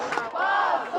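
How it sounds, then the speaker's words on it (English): A large crowd gathered outside after a judge's house-arrest ruling chants loudly and steadily in unison, a dense roar of many voices filling the whole moment with no pause. "The large crowd outside chanted shame when the news broke."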